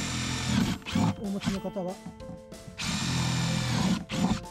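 An impact driver fitted with a drill bit bores holes in the bottom of a plastic planter, giving two loud, sustained whirring bursts with a person speaking between them.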